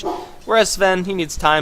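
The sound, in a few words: dog barking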